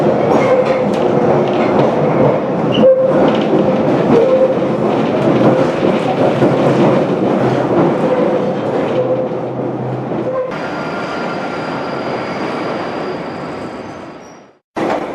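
A London Underground train runs through a tunnel, a loud continuous rumble and rattle of wheels on rails with brief squeals, fading briefly near the end before resuming.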